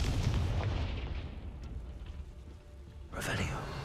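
In Hogwarts Legacy, a Confringo fire spell blasts with a loud, crackling burst at the opening that decays into rumbling debris. A second sharp, bright impact hits near the end.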